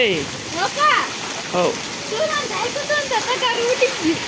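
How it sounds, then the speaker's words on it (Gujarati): Steady heavy rain roars throughout a storm with wind and lightning in Vejalka, with excited voices calling and talking over the downpour. "વરસાદ અતિ ભયાનક વરસાદ ધોધમાર વરસાદ"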